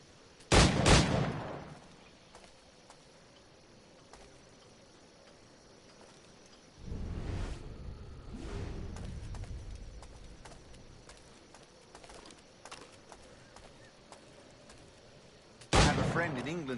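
Firearm shots in Assassin's Creed Black Flag: a loud close gunshot near the start, another burst midway, and a final sharp shot at the end, separated by quieter stretches with speech.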